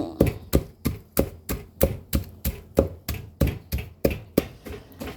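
Green papaya salad is pounded in a mortar with a pestle. About sixteen sharp, close thuds land at a steady, brisk rhythm, each with a short rattle of ingredients. No voices are heard.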